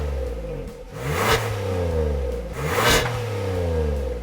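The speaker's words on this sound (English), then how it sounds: "a crisp exhaust note." Hyundai Palisade 2020 with a 3.8-liter V6 revving, its exhaust note rising and falling in two strong surges with whooshing peaks, close and loud, no talk.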